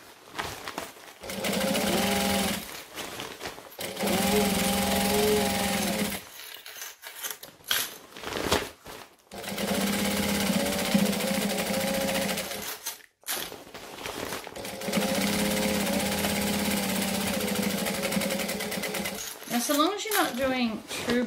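A sewing machine stitches binding onto a quilt in long steady runs, broken by short pauses, with a quick backstitch to lock the seam. A person speaks between the runs.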